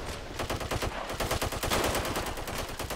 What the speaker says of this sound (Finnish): Ampukaa niitä, ampukaa niitä.